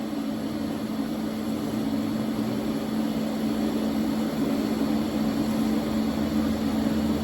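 A MIG welder runs a puddle on metal in a beginner's welding lesson, a steady close buzzing hiss that holds without a break throughout.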